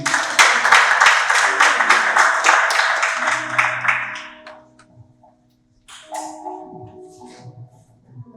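Audience applause greets the president of the Foursquare Church of Senegal at a formal ceremony, a loud dense burst of clapping lasting about four seconds before fading out, followed by quieter room sounds and brief murmuring.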